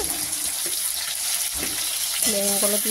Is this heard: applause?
no